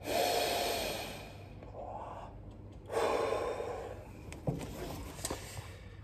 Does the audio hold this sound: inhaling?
yes